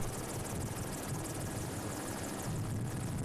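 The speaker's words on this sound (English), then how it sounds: "The helicopter needs to be very precise in its placement of the drop through the tall trees." A helicopter hovers over tall trees, carefully lowering a slung load to the ground; steady rotor and engine drone, continuous and fairly distant, with no talking.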